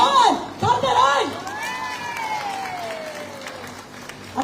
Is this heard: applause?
yes